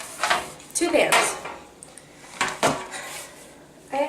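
Two metal sheet pans are handled while baking cookies, giving several close clanks and clattering knocks with sliding rustles in between.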